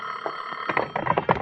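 A telephone rings in short bursts of electronic bell tone, growing busier and louder in the second half.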